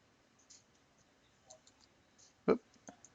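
A computer mouse clicks while drafting a sketch in Autodesk Inventor CAD software, with one sharp, close click standing out among a few fainter taps in a quiet room.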